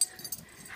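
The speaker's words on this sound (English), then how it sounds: "Silly dog." Dog whimpering in a home: a few faint, short breathy whines and wheezes close by, soft and broken into small bursts, with no talk.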